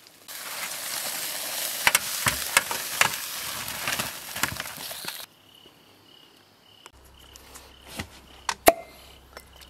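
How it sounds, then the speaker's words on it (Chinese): Fish grilling over charcoal with shredded scallion and ginger gives a soft, continuous sizzle with scattered pops for about five seconds, then falls quieter to a faint background with a few sharp clicks. "鱼烤好了，再来点葱丝、姜丝烤一下。"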